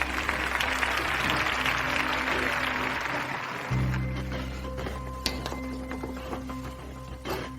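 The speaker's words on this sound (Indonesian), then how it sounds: "Berikan tepuk tangan meriah." Applause for exemplary employees at a company ceremony, dense clapping at first that thins out midway, with a low hum beneath and a few sharper isolated claps near the end.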